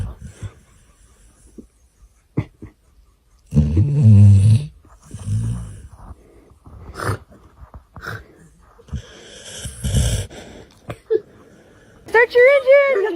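A pet dog snores at home, with several loud, rasping snorts and wheezing breaths that come in irregular bursts, close and clear.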